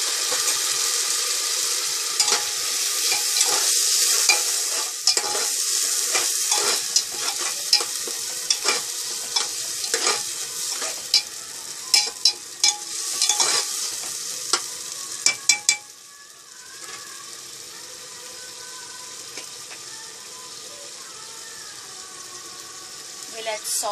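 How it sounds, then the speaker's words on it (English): Homemade spice paste of coriander seeds, cumin, ginger, garlic and black pepper ground with water, sizzling and being stirred in a hot pan for mutton curry with papaya and potato; steady loud frying hiss with scraping stirs, easing quieter near the end. "we'll add the spice paste that we have made"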